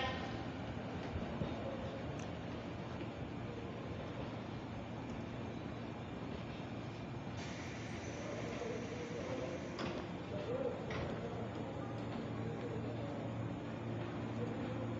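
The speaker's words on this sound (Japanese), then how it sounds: "電車発車しますご注意ください" Steady rumbling of a 185 series train pulling out, with low mechanical drone, occasional clanks and a faint public-address voice in the background.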